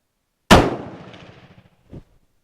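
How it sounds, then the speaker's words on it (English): A single sharp, loud shot from an FN FAL STG58 rifle rings out with a long echoing tail that fades over a second, followed by a faint dull thump. "I'll shoot a few more and see where I'm grouping at."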